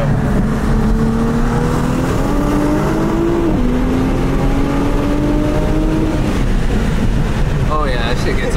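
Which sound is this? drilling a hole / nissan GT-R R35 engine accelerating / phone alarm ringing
nissan GT-R R35 engine accelerating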